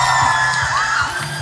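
An audience at a Busan International Film Festival open talk for the film Broker cheers and shouts, a dense crowd roar that stays steady and loud throughout the short moment.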